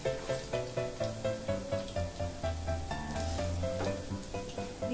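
Potato lollipops fry in hot oil on a high flame, a continuous loud sizzle with a steady, rhythmically pulsing texture throughout.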